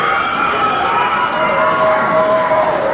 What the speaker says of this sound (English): Crowd's real excited.